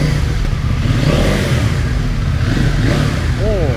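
A CFMoto 800NK motorcycle engine revs loudly and continuously close by, a dense rising and falling roar that fills the whole stretch.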